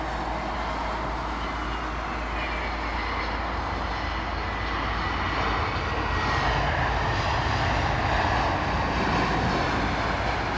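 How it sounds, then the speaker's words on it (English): British Airways jet from Munich landing at London Heathrow, a loud, steady roaring engine and broadband rush that swells slightly as it passes, with no talk. "British Airways coming in from Munich."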